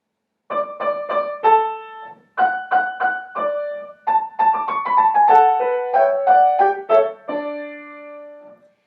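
A sequence of bright, high piano notes plays in quick rhythmic groups, clear and close, ending on a held tone.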